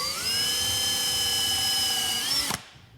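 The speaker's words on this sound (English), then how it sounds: "I'm going to drill a hole right through the middle" Power drill bores a hole through the middle of a roughly six-inch square of wood for a toddler push toy, a loud steady whine that cuts off abruptly near the end.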